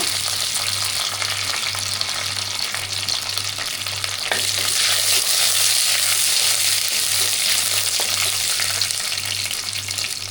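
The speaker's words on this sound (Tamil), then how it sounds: "எண்ணெய் எல்லாம் சூடாயிடுச்சு கடுகு சேர்த்துக்கலாம் கூட கருவேப்பிலை சேர்த்துக்கலாம்" Mustard seeds and curry leaves crackle in hot oil, a loud, dense, continuous sizzle close up that swells a little midway, with a steady low hum beneath and no talking.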